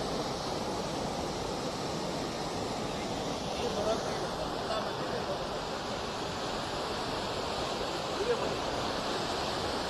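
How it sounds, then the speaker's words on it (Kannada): Water rushing through the crest gates of a dam reservoir, a dense steady roar of broadband noise with no breaks, loud and close throughout, and no clear voices over it. "ನೋಡಿ, ಇಲ್ಲಿ ನೀರು ಭಾಳ ರಭಸವಾಗಿ ಹೋಗ್ತಾ ಇದೆ."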